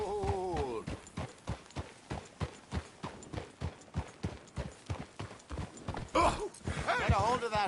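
Steady horse hooves clip-clop in a rhythmic walking gait in Red Dead Redemption 2, close and clear, with a brief snort near the end and voices speaking over parts of it.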